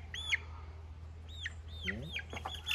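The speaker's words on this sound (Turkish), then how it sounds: "Kara tavuk." A black chicken clucks near the camera in a village farmyard where sheep are kept, giving several short, sharp clucks spaced irregularly, with a brief low voice in the background.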